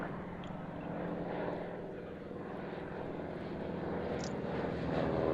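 A propeller aircraft drones past in the distance, a low steady rumbling hum that slowly swells louder toward the end, with no talking.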